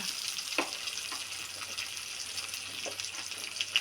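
Chopped onion, garlic and dried chili fry in oil in a wok, giving a steady, close sizzle with a few faint stirring clicks and no talking.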